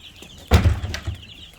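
On an ornamental poultry farm holding close to 400 chicks, a chicken gives a short, abrupt cluck, followed by a softer second call over faint high chick peeping in the background.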